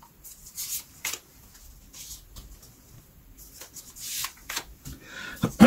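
Tarot cards being shuffled by hand up close, quiet papery riffles and soft slides in irregular bursts, with a louder flutter near the end.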